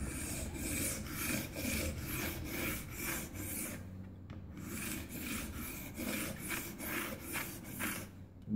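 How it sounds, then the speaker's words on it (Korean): A carving knife is sharpened in a low-angle honing jig, with steady rhythmic rasping strokes of steel on a stone, repeated back and forth close up, pausing briefly midway before resuming. "이런 식으로 연마를 하면은 이제 되는 거고요"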